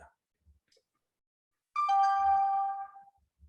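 A phone ringtone sounds once, a bright melodic chime lasting over a second amid otherwise quiet surroundings with a few faint thumps.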